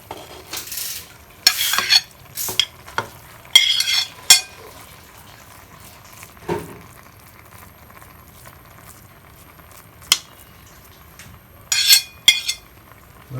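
Set-aside rice spooned over hilsa and ghee in a pot for Bengali ilish polao. Close, scattered clinks and scrapes of a spoon against the metal pot come in short bursts, separated by quiet pauses.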